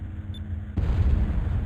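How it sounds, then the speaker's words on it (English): A sudden heavy boom of an explosion striking an airship in the video game Skies of Arcadia Legends, cutting in after a quiet hum and rumbling on loud and low. "There was an explosion off the port bow."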